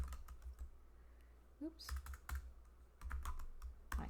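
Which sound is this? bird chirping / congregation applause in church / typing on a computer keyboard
typing on a computer keyboard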